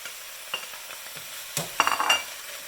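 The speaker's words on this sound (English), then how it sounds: "Just saute a little bit. And then mix this well with the stem and the carrots." Kale stems and carrots sauté in a pan, giving a quiet sizzle with scraping stirs that grow louder toward the end, close and without voices.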